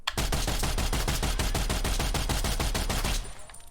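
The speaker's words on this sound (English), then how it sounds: "If I ADS and shoot, it's gonna automatically apply rapid fire and little to no recoil." Rapid automatic gunfire in Black Ops Cold War, a loud, evenly spaced stream of close shots lasting about three seconds before stopping abruptly.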